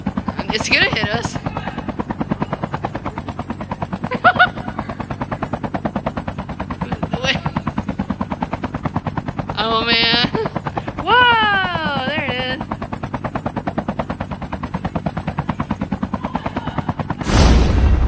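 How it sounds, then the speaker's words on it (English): Call of Duty Mobile battle royale match: a helicopter's rapid rotor thump chops steadily and loudly throughout, with bursts of machine gun fire and scattered gunshots, and a player talking over it. "It's the helicopter."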